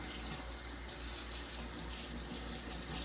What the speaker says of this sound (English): I'm just going to run some warm water.